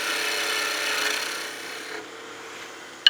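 Skew chisel taking a light pass on wood spinning on a lathe while turning a gnome Christmas ornament, a steady close rasping hiss that fades toward the end and finishes with a brief sharp tick.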